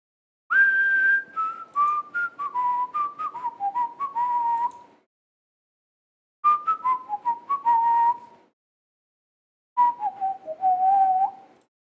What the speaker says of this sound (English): There's songs that are just whistling